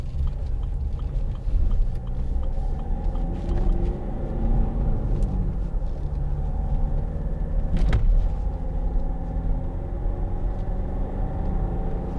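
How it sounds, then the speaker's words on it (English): A 2010 Land Rover Freelander 2 TD4 diesel engine drones steadily from inside the SUV while driving uphill, low rumbling under light road noise, with a brief knock midway. "The diesel engine pulls so good up hills and from low speeds, just effortless"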